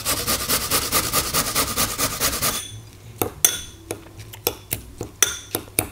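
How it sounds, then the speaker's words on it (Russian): A carrot rubbed over a fine grater gives a fast run of rhythmic rasping strokes, close and steady, then stops and leaves a few sharp clinks of utensils against dishes. "А морковку на мелкой терке."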